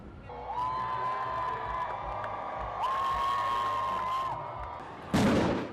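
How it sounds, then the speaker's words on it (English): A street crowd with a marching band under the Scott Circle tunnel cheers and roars continuously, with long sustained horn-like tones rising over the din and a loud burst of noise at the end. "The crowd went crazy."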